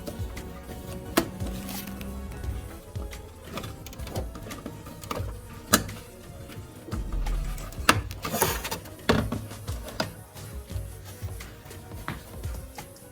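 A TCL television's plastic back cover is fitted and screwed on, giving irregular clicks, knocks and scraping handling noises at close range with short whirring bursts from a screwdriver.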